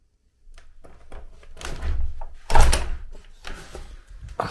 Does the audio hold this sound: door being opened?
yes